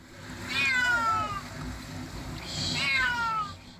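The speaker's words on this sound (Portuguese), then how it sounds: "Uma moradora de Itajaí ouviu os miados do gato preso dentro de um bueiro." A cat trapped inside a storm drain in Itajaí meows twice, drawn-out and plaintive, each call wavering downward with a faint echo, over a steady low background hum.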